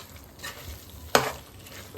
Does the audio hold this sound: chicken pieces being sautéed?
yes